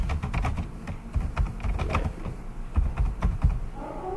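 Rapid, uneven keystrokes on a computer keyboard while a post is written, close and clear with short bursts and brief pauses, no talking.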